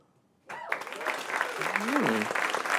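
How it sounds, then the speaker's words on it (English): A studio audience breaks into loud applause that swells and holds, with a voice talking and cheering over the clapping. "Round of applause if you think that."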